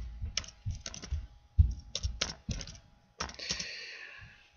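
Computer keys clack in quick irregular bursts with short pauses between, close and moderately loud, as a file name is typed into conversion software, with no speech.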